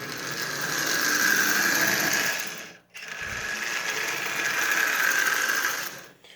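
A Marx 666 smoking toy steam locomotive, dirty and long unused, runs as its motor warms up with sparking at the wheels. It makes a steady, fairly loud whirring hum that briefly drops out midway, then resumes.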